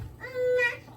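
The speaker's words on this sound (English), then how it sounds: "Y'all excuse the baby in the background." A baby cries briefly in the background of a kitchen, a single short wail rising and falling within about a second.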